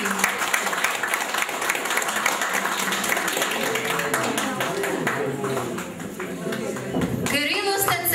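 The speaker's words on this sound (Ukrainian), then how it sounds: "Ваші оплески!" An audience at a harmonica festival applauds, a dense burst of many hands clapping close by and continuing steadily, with a voice speaking over it toward the end.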